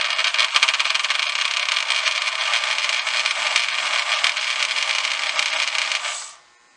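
A Lionel 97 postwar coal elevator with a noisy motor runs loudly, giving a steady close mechanical whir and rattle of gears and chain that cuts off abruptly at the end.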